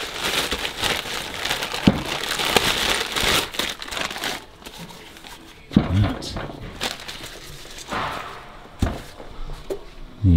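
A new differential being unwrapped from its packaging, with bursts of crinkling and rustling wrapping material, some sharp thumps and handling knocks, and someone talking intermittently.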